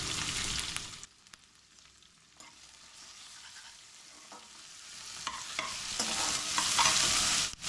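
Chilies, ginger and onion fry in a pan, giving a steady broadband sizzle that dips quieter for a few seconds, then builds loud again, with no talking.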